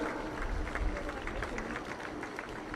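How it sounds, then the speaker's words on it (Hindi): Applause from an audience at a local community event in India, a steady wash of clapping across the whole stretch, moderately distant, with crowd murmur mixed in. "तालियां जोर से बजाओ ना।"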